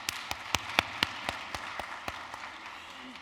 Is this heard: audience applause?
yes